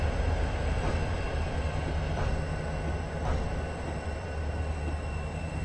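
Southern Pacific SD45 diesel locomotives running as mid-train helpers in Train Simulator 2015 at Soldier Summit, giving a steady, heavy rumbling drone with rail noise at moderate distance and no talk.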